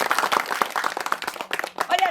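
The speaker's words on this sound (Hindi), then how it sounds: "एक बार ताली बजाओ सब गोड़ा मिलकर।" An audience clapping together at a comedy show, a dense, uneven patter of hand claps under a talking voice and crowd noise.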